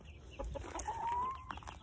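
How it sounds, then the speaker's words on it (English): Chickens being shooed out of a spot, giving a few soft, close clucks and a brief rising call over faint background noise. "Come on, chickens, out."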